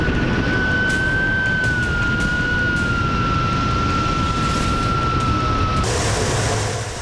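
A Russian Sukhoi Su-25 fighter jet takes off with a loud, continuous roar of broadband engine noise and a sustained whine. The jet sound stays intense and steady, then shifts slightly in tone near the end.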